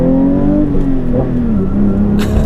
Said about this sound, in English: Auto blip. The auto blip tried to get us.